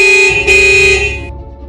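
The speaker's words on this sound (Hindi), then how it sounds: "अचानक गाड़ी के तेज हॉर्न से उसकी तंद्रा टूटी।" A loud car horn blares as a sound effect in a Hindi horror audio story: one sustained, close, piercing honk lasting about a second before fading into a low hum.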